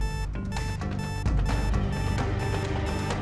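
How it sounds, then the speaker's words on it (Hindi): A safe's alarm rings with a dense, loud, continuous electronic tone layered over music-like harmonic sound, steady throughout without pause; no talk is heard. "ये तो हमारी तिजोरी का अलार्म है।"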